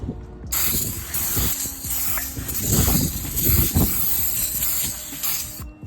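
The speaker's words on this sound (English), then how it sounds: "We will hit the other side with some brake cleaner." Brake cleaner sprayed onto the front brake of a 2016-2022 Lexus RC200t: a steady, loud aerosol hiss running for several seconds, close up, with faint mechanical clicks and rattles underneath.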